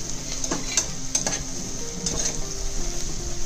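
Onions and green chillies fry in a pan while a spoon stirs them: a close, steady sizzle with scraping and clinks of the spoon against the pan at irregular moments, and no talk.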